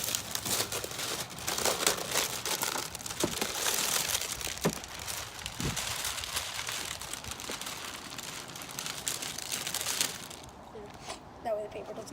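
Paper crumples and crinkles in a steady rustling stream while a Traxxas Rustler RC truck is unboxed, with a few sharper crackles and handling knocks, then quieting near the end; a voice speaks intermittently over it.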